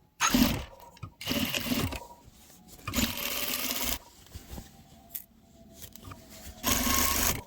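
Sewing machine stitching a half-inch seam on a custom tailored bedskirt, running in several separate close bursts with short pauses between them.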